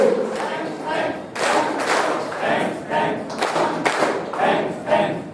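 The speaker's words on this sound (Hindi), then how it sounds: "5 टाइम्स धन्यवाद ताली से।" A group claps together in a steady rhythm, a short run of five sharp, loud claps close by, with a little crowd noise around them.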